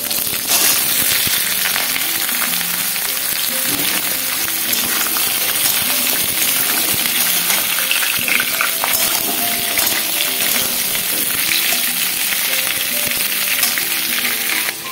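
Loud, dense sizzling of chopped vegetables, including pointed gourd, frying in a wok with lentil dumplings, a continuous close hiss with faint stirring throughout and no voices.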